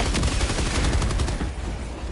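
Orbital strike bombardment in the video game Helldivers 2: a loud, dense volley of rapid blasts and crackling detonations rolling continuously, then thinning slightly as it trails off.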